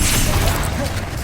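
Confringo, a blast spell in Hogwarts Legacy, goes off as a loud, dense burst of crackling noise that fills the moment and fades quickly.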